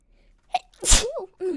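A single close, sharp human sneeze, loud and alone, followed by a brief voiced tail.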